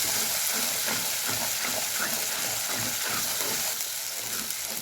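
Fenugreek leaves sizzle in hot spiced oil as they are stirred through a pan for a village-style Bengali egg dish, a constant close frying hiss with faint scraping from the stirring.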